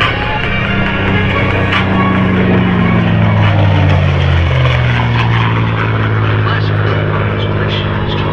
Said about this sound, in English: Flying the 1945 North American P-51 Mustang Quicksilver.